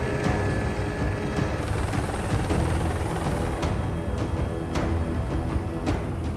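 A helicopter flies over a flooded area, heard from inside the cabin as a loud, steady rotor and engine rumble with faint rhythmic blade beats, with no talking.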